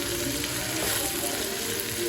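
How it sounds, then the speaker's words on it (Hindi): Tomatoes and chillies fry in a pan in a steady, moderate sizzle heard up close, with no speech over it. "तो टमाटर मिर्ची डाल दूँगी, ये भी अच्छे से पक जाए"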